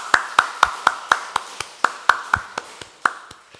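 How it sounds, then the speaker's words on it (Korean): A church congregation claps in welcome during a Sunday worship service, heard as a string of sharp, evenly spaced, ringing claps close by, slowing slightly toward the end, with no voices. "우리 환영과 축복의 의미를 담아서 박수 한번 해주시기 바랍니다"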